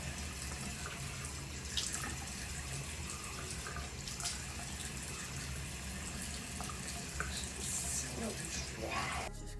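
Tap water runs steadily and faintly as hair is wetted to help detangle conditioned hair, a continuous soft hiss with no clear words.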